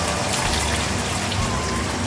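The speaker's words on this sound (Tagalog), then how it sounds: "Kulang pa ito sa lambot, nararamdaman ko kaya magdadagdag muna ako ulit ng tubig." Water pours into a pot of white-braised pork belly in fish sauce, a loud, close, continuous splashing gush that sounds like heavy rain, with no voices.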